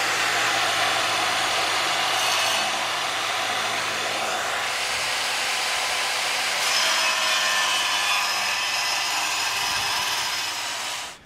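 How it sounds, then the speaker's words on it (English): A RIDGID 7-inch wet tile saw cuts through tile with a continuous loud grinding whir that holds steady for about eleven seconds before stopping abruptly. "This is the rigid 7-inch tile saw, and it has treated us well."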